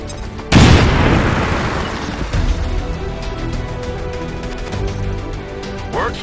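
A grenade in XCOM 2 explodes in one sudden, loud, close blast that booms and then rolls off into a long, rumbling decay with scattered debris.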